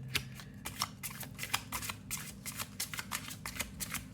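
Tarot cards are shuffled in a quick, steady run of crisp riffling bursts, close and moderately loud over a low background hum, with no talking.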